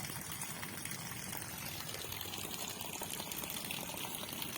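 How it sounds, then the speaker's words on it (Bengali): Water pouring steadily from a newly installed tap, a faint continuous splashing trickle heard from a short distance. "তো ওই যে কি সুন্দর জল পড়ছে দেখো"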